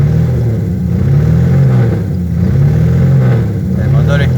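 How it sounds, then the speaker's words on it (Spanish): A Torino GR car engine runs steadily, its low, even drone swelling gently as the revs rise and fall, with a person talking over it. "El motor está lindo."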